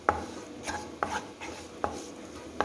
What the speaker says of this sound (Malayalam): ഇതെല്ലാം കൂടി നല്ലപോലെ തന്നെ ഒന്ന് ഇളക്കിയെടുത്തതിന് ശേഷം